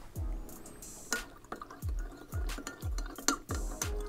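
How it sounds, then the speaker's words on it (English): A spoon clinks repeatedly against a glass of water while stirring in a scoop of baking soda, a steady rhythm of close, bright taps with faint liquid swishing and no talking. "I'm gonna add a scoop of baking soda to that and stir it into there."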